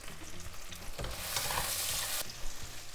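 Quesadilla with dandelion leaves sizzling in a hot pan. A steady frying hiss swells loudly through the middle of the clip, then eases back, with no talking.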